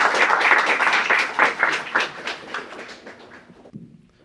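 An audience at an academic arbitration event claps in a dense burst that thins out and fades over a few seconds, with no talking over it.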